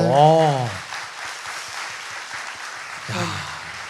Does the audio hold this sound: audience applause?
yes